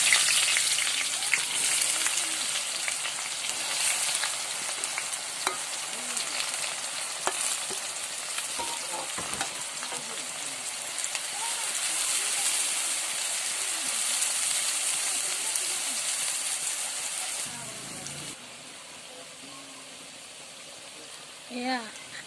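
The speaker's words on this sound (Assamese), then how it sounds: "এতিয়া মই পিঁয়াজখিনি ভাজি ল'ম। তেল গৰম হৈছে নে নাই চাই ল'ম।" Onions fry in hot oil and are stirred, a continuous close sizzle with scraping strokes that quietens near the end.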